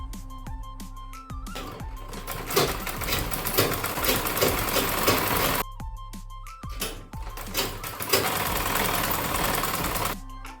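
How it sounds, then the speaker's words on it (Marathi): A sewing machine stitches a dress in close, rattling bursts of several seconds each, starting and stopping with short pauses between runs. "आता दुसऱ्या बाजूचं शिलाई मारून घेते"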